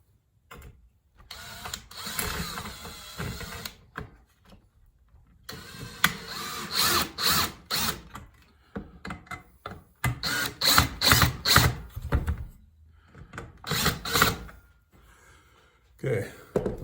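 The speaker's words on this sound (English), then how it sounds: "When in doubt, power tools." Power tools whir and ratchet in short repeated bursts during a 1984 Corvette rebuild, close and fairly loud, with pauses of quiet between runs.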